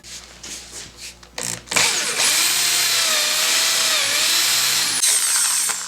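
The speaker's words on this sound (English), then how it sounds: "I'm holding a drill at an angle that matches this line right here" A power drill whirs up after a few light knocks, then bores steadily into wood with a high, sustained whine before stopping abruptly.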